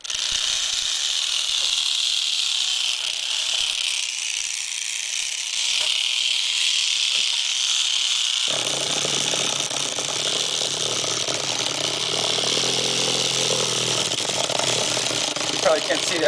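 A homemade prison tattoo gun motor buzzes continuously close by with a rattling, engine-like drone that shifts and grows fuller partway through, while people talk over it.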